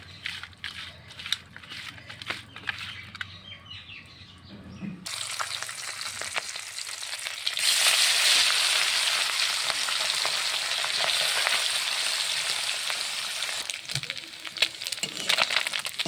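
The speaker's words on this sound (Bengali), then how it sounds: "পুঁটি মাছগুলো সুন্দর করে লেগে করে মচমচি করে ভেজে নিলাম" Small puti fish fry in hot oil, quiet with scattered clicks at first, then a loud, dense crackling sizzle that swells and holds steady close by.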